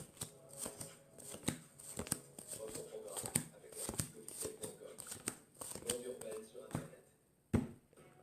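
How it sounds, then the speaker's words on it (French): Playing cards dealt one by one into three piles for a magic trick, a brisk series of light snapping flicks and soft slaps close by, with a person talking quietly in between. "avec ce jeu de cartes là que le spectateur a choisi, nous allons faire 3 tas"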